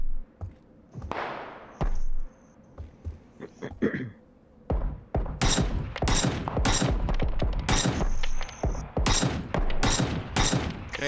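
Rapid gunfire in PUBG cracks out in dense, sharp bursts, loud and close. Scattered single shots come first and volleys follow, with a few faint pings mixed in.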